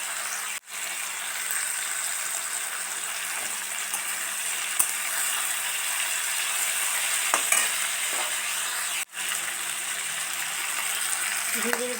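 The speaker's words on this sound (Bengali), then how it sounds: "নুন দিয়ে সুন্দর করে নাড়াচাড়া করে অল্প সুন্দর করে ভেজে রাখতে হবে" Mixed vegetables with salt and red chillies fry in a pan with a steady sizzle and occasional stirring scrapes, briefly cut off twice.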